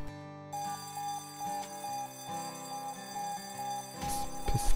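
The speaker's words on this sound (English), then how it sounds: "Why is there an alarm?" An alarm sounds inside Saints Row The Third, a steady repeating electronic beep pulsing at a regular rhythm over background game music and ambience, with no talk.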